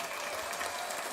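An audience claps during a workshop session, a short, faint burst of scattered applause that rises and fades within about a second.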